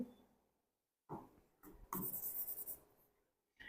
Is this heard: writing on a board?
yes